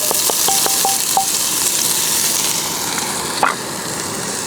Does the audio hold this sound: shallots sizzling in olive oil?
yes